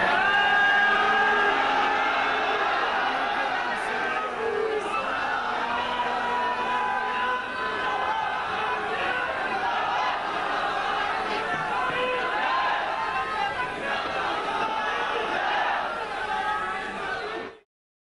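A large crowd at a Jamaat Ahmadiyya Germany gathering chants slogans in a steady, sustained roar of many voices that carries throughout before cutting off abruptly.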